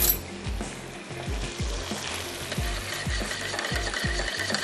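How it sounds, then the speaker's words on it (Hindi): Mutton coconut curry being stirred in a pan, a steady rhythm of spoon scrapes repeating about every half second over a continuous sizzle, close and moderately loud with no talking. "इसको मैं पहले थोड़ा सा स्टर कर लेती हूँ"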